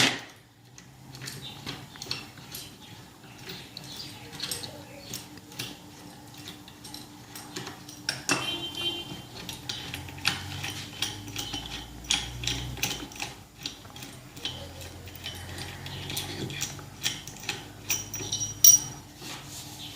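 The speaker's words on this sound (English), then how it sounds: "Loosening the clamps, removing the fence." Clamps on a router mortise and tenon jig are loosened and the fence removed, giving a string of metallic clicks, ratcheting taps and small knocks, close and fairly quiet, with brief handling clatter throughout.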